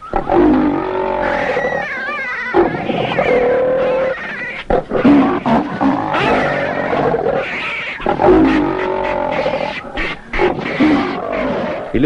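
A leopard growls and roars repeatedly in a wild setting, loud and close, with bursts of snarling and short pauses between calls, no talking.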